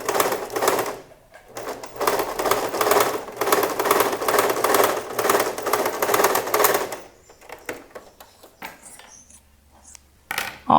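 A sewing machine runs steadily while stitching the back pocket of dress trousers, a continuous close whirring for about seven seconds, then stopping and giving way to a few short clicks and handling noises.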